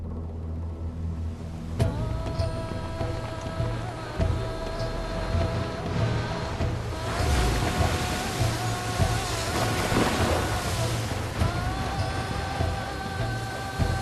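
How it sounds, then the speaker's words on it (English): A windstorm with gusts up to 60 miles an hour whips across Lake Nasser at night, giving a continuous roar of wind buffeting the microphone, with waves and spray surging louder midway and then easing. "A huge windstorm came up out of nowhere."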